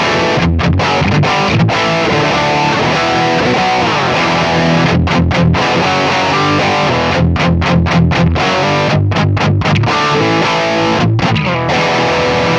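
Heavily distorted electric guitar through a Neural DSP amp simulator, riffing with chugging palm-muted rhythms and brief stops, loud and continuous with a processed amp tone.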